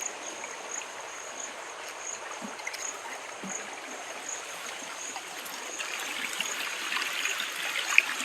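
Water flows through a channel in a farm field, a faint, steady trickling wash that grows slightly louder toward the end, with a thin high tone running above it.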